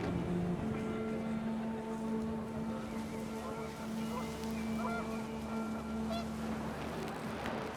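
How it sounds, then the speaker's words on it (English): Panicked geese honk in the video game What Remains of Edith Finch, heard as a few nasal calls over a steady, droning wind and ambient background, moderately loud and somewhat distant. "The wind picked up, and panicked geese appeared and quickly went."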